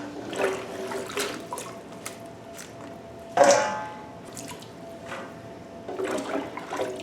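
Washed green beans are tipped back into a colander while water trickles and drains, with a sharper splashing pour midway and small clinks, heard close and moderately loud.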